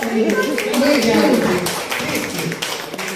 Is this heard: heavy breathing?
no